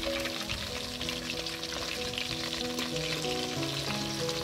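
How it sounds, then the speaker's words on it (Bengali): Fish sizzling steadily in hot oil in a pan, a dense continuous frying hiss with steady loudness throughout and no voices. "এরপর একই তেলে বাকি মাছগুলো আমি ভেজে নেব।"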